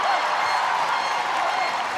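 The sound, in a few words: stadium crowd cheering after a hockey penalty flick is cleared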